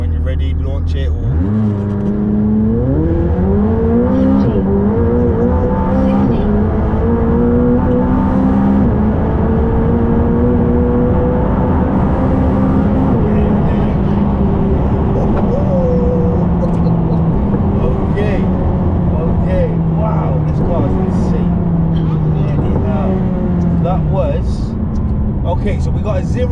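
A McLaren 600LT supercar launches on a wet surface and accelerates hard, its engine note climbing through several rising sweeps with gear changes, loud and close from inside the car, while people talk over it.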